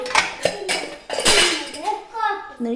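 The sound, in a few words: wok-style frying pan being handled and set down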